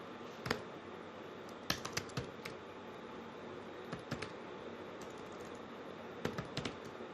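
Someone is typing Python code on a computer keyboard in a quiet room, with sparse, close key clicks coming in small bursts and short flurries separated by pauses, and no voices.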